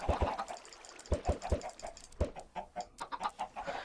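Chickens on a Minecraft Skyblock farm give quick, overlapping clucks and short squawks in a busy, uneven patter that runs through the whole clip at close range.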